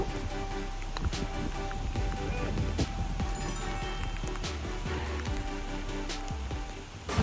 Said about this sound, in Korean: 어, 빗방울 마구마구 떨어지고 있네요.